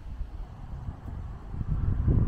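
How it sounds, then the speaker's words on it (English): Gusty wind buffets the microphone outdoors while an awning is fitted to an L322 Range Rover, a steady low rumble that swells louder toward the end, with no talking. "It is a bit windy here"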